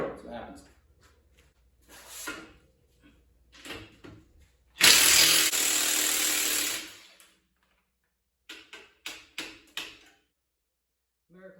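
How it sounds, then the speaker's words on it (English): A power tool unscrews rusted U-bolts on an old trailer axle, one loud continuous whirring burst lasting about two seconds, framed by people talking and brief clanks of handling before and after. "We're going to make an attempt to unscrew these bolts."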